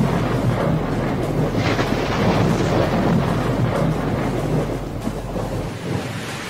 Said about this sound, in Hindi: मतलब बहुत ही तेज बादल गरज रहा है।